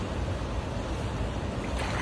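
A fast-flowing river rushes steadily, a dense, loud broadband churning of water close by with no breaks, while fishing from the bank.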